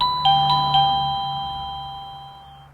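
A wireless doorbell chimes three bright, ringing tones in quick succession, and the last tone rings on and slowly fades. The chime is clear and close, with no talking over it.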